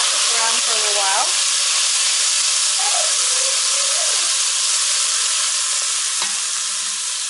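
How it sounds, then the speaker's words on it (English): Crushed red pepper and garlic fry in hot oil in a pot, making a loud, dense, continuous sizzle that stays close and even throughout, with a faint voice briefly underneath. "So now the pot has the oil and I'm adding the crushed red pepper and the garlic."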